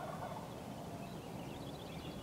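Several wild turkey toms and jakes gobble during a spring hunt in Idaho, some nearer and a couple more in the distance, sounding faint and continuous under a steady outdoor background hiss.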